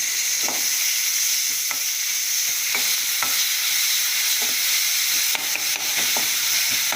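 Ginger and garlic sautéing in a pan make a steady bright sizzle, broken by scattered clicks and scrapes of a spoon stirring, close up with no voices.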